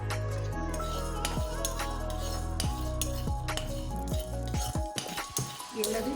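Coriander seeds and spices are dry-roasted in a pan and stirred, producing repeated metallic scrapes and clinks of a spoon against the pan, with rhythmic strokes and a faint sizzle beneath.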